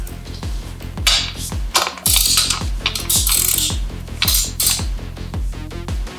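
A ratchet tool tightens a frame slider bolt on a Kawasaki Z900 motorcycle, producing loud, rapid, repeated clicking bursts up close with brief metallic clinks between strokes.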